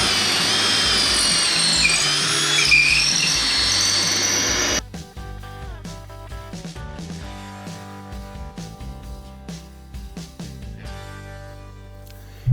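A power drill drives a lag bolt into a wooden newel post with a loud, strained whir for about five seconds, then stops abruptly, followed by a background of steady music.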